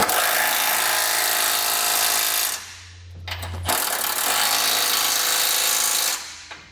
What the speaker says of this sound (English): You're going to want to grab a 19mm socket and tighten those up.